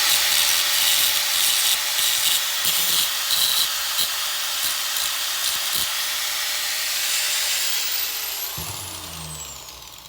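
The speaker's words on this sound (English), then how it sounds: "So I need to grind this, you know, just only where I welded." A power grinder working down welded spots on a metal key, a continuous loud high-pitched whirring grind that holds steady and then winds down near the end, close by with no talk.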